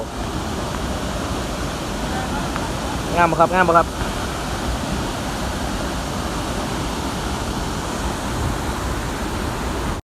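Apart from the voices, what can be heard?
Tad Yeuang waterfall in Laos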